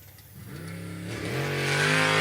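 Race boat engine at an ASBR pro racing qualifying start, revving up in a rising, swelling whine that grows louder and closer over a couple of seconds, with no talk.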